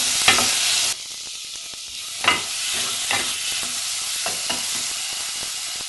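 Tomato being stirred and fried in a pan for a potol sabzi, a steady sizzle broken by several scraping stir strokes, close and fairly loud with no talking.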